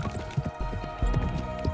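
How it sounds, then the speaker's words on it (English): Horse hooves clip-clopping in a steady ridden rhythm from the video game Love and Deepspace, close and fairly loud, with a low rumble beneath the repeated thuds. "I lost track of time as we sit on the horse."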